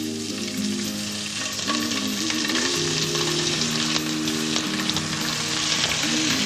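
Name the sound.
fish fillet frying skin side down in olive oil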